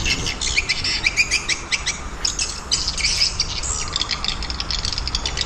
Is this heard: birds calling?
yes